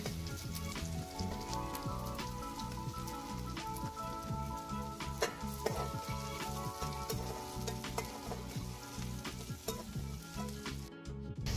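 Chopped onions and green chillies frying until brown in a pan over a wood-fired stove, with a dense, crackling sizzle and frequent stirring scrapes, close and steady throughout, with no voices.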